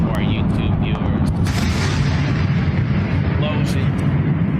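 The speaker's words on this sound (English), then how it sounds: "That was not fireworks. Those were explosions." Deep, loud booms from Russian strikes on Kiev roll through a continuous roar of noise, with a few sharper cracks, while voices talk over the blasts.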